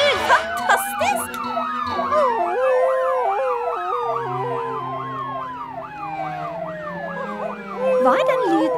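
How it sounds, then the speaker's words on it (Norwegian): A police car siren in a Norwegian children's cartoon wails in rising and falling sweeps throughout, loud and close, with cartoon effects layered over it. "Jeg hører ingenting når sirenen min ruller."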